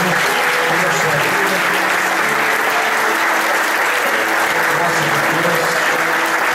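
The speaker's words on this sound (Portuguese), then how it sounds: "Nós vamos recebê-la, aplaudindo ao Senhor." A church congregation claps and applauds to welcome a pastor to the front, a dense, steady wash of clapping that stays loud throughout, with a faint hum of sustained tones underneath.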